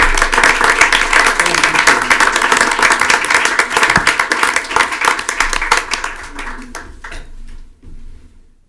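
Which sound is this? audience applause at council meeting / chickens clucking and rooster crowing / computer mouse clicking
audience applause at council meeting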